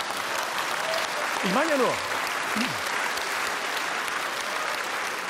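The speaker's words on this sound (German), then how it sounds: "Da klatschen aber nicht alle, das habe ich sehr genau registriert." At a political cabaret show, an audience claps in a steady, dense wash of applause that runs the whole time while a voice speaks briefly over it.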